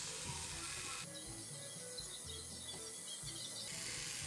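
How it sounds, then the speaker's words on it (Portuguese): Small handheld razor scraping across facial skin, a soft, close rasping rub in short repeated strokes, faint and quiet. "vou começar aqui raspando"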